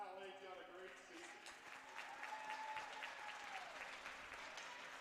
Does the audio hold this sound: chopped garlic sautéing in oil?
no